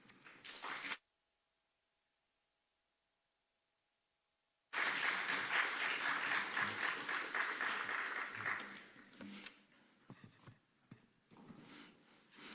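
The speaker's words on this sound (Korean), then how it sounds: "우리 장로님 강단에 오실 때 축복의 박수로 맞이하겠습니다" A church congregation at a Sunday service claps in welcome to an elder, a dense burst of applause that swells after a brief silence and then thins out into scattered claps.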